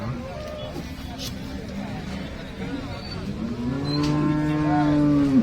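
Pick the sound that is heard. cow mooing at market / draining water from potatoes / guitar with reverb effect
cow mooing at market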